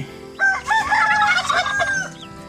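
Turkeys with a mother hen and her newly hatched chicks, heard close by. A single loud, drawn-out call of about two seconds dominates the clip, with faint background sounds and no talk.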